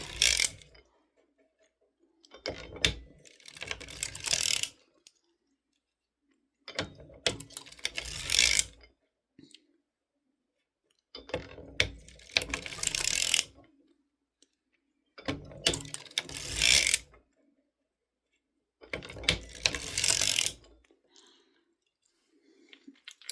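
A sock knitting machine works its needles in five bursts of mechanical clatter, each a couple of seconds long, separated by quiet pauses and close by.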